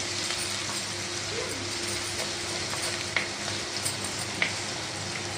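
Crushed ginger, garlic and green chilli fry in oil for a tuna fish-head curry, a steady moderate sizzle with an occasional faint metallic clink of the stirring spoon.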